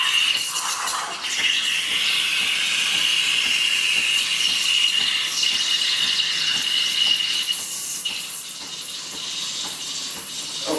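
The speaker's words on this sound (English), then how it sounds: "that's the little bit of water coming out, and now it's steaming" Breville Barista Express steam wand steaming milk, a steady close hiss with a high whistling squeal that holds for most of the stretch and then eases slightly near the end.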